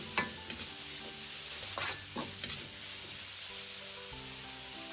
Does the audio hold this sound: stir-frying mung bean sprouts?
yes